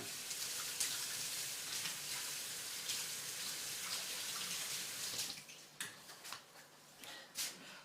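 A knife is rinsed under a running kitchen tap while a caramel toffee ice cream pie is being sliced: a steady rushing stream of water, then lighter splashes and drips as the flow is interrupted, close and alone.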